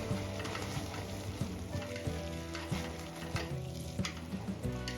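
Sabudana flour powder cooking in milk in a pan as it thickens toward a dough for barfi, with a dense bubbling sizzle and steady stirring scrapes throughout, close and fairly loud.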